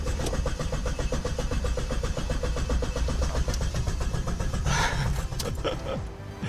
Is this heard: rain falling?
no